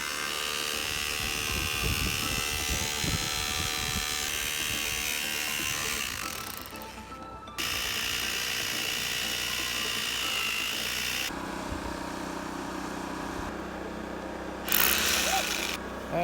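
A continuous high-pitched mechanical whine of a power drill running for long stretches, briefly dropping off and restarting, with a low rumble underneath.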